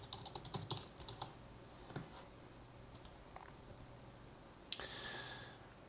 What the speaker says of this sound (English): come over here and type in the object, so let's say the Heart Nebula.